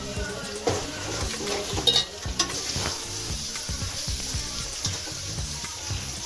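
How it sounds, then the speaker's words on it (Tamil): Onions sautéing and being stirred in a pan for Coimbatore-style seeraga samba chicken biryani, a steady close sizzle with scraping stir strokes and occasional utensil knocks, with no talk. "இந்த அளவுக்கு நல்லா வதக்கிடுங்க"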